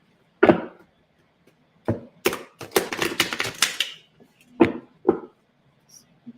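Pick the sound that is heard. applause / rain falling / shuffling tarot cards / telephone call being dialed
shuffling tarot cards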